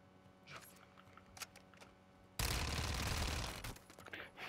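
Automated turret in Call of Duty MW2 DMZ firing a sustained, dense burst of rapid shots that starts suddenly and roars on for about two seconds, following quieter scattered game noise.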